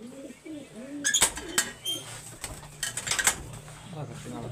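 Lal palle (red-winged) pigeons coo in low, rolling bursts near the start, followed by sharp metallic clatters and wing flaps, with someone talking intermittently.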